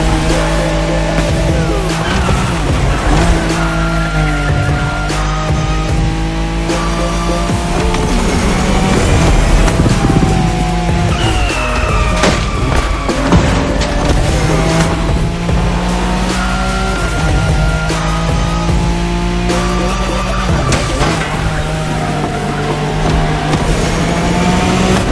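Racing cars in The Crew Motorfest, including a Nissan Skyline on a Tokyo Bayshore street-racing route, roar loudly and continuously, with engines revving up and down through gear shifts and occasional tire squeal.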